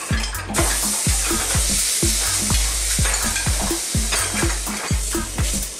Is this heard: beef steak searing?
yes